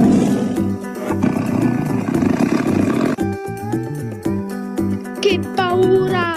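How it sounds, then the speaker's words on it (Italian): A cartoon tiger roars loudly in a children's animation, with a deep growling burst followed by bright musical jingles and cheerful tones. "Aiuto! C'è una tigre!"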